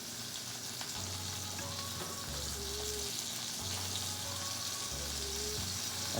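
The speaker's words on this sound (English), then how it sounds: "I can hear those tomatoes sizzling." Tomatoes cook in a pan with a continuous broad sizzle and frying hiss, joined by a low intermittent hum that comes and goes in stretches, close and fairly loud with no talk.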